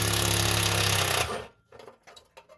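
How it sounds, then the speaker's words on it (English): An impact tool removes 12 millimeter heat shield bolts under a Subaru, giving a loud, steady close-up rattling burst that stops abruptly after about a second, followed by faint clinks and handling noises. "So I'm just going to remove these bolts."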